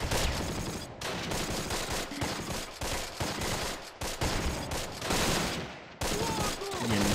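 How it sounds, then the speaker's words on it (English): Heavy gunfire in the World War II strategy game Close Combat: The Longest Day, with dense overlapping rifle and machine-gun bursts crackling almost continuously, broken by a few short gaps, fairly quiet overall. "They're under some heavy fire here."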